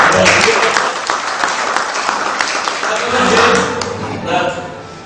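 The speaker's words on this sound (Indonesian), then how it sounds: "Sekali lagi tepuk tangan buat Akso ya." Audience applause fills an Indonesian Quran teachers' motivational gathering, steady sustained clapping from a room full of people, loud and close, with a speaker's voice over it.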